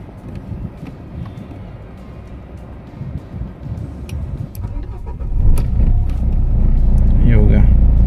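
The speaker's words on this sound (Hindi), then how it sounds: "ये स्टार्ट छोड़ दिया, गाड़ी स्टार्ट हो गया अपना" A car engine cranks with a turn of the ignition key and catches at about five seconds, then settles into a steady, loud idle rumble; brief clicks come before it and a voice speaks at times.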